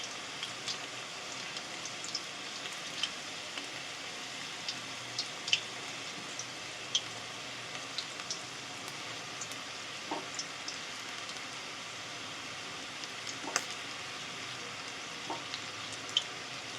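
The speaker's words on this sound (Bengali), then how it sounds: "খুব হালকা হিটে একটু 5-7 মিনিট ভালো করে একটু ভাজতে হবে" Chicken cheese balls frying gently on low heat in oil, a soft steady sizzle with scattered faint pops and crackles, quiet and continuous with no voices.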